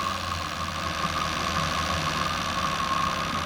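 A Lamborghini 350GT engine with a Marelli distributor idles at low RPM, giving a steady low droning hum with a constant mid-pitched tone, even and unbroken throughout, with no talking.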